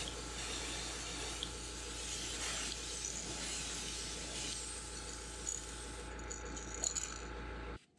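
An airbrush compressor runs steadily while a fishing lure, a Rapala Wiggle Wart, is painted chartreuse; the close, constant hum and hiss carry faint rattles and stop abruptly at the end.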